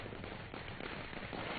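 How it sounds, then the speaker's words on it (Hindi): Firecrackers crackle continuously and loudly at a Dadi Rani Sati Nishan Yatra festival procession, a dense, steady burst of pops without a break. "साथ ही पटाखे भी छोड़े जा रहे हैं।"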